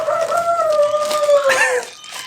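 A rooster crows among free-range chickens on a homestead, one drawn-out crow carrying close and clear before trailing off into quiet.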